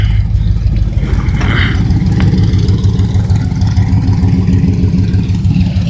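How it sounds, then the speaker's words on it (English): An '84 Camaro small-block engine with a makeshift exhaust rumbles loudly and steadily close by, its low drone holding through the clip with slight rises in pitch as the throttle is tapped. "I'll tap the gas a couple times"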